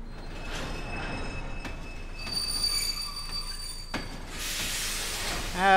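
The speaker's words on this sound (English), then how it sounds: "Look, it's the ghost train." A ghost train rolls past in Kingdom Hearts II Final Mix, its wheels squealing and rails rattling in a continuous metallic passage with hissing, ending in a rising warbling chime.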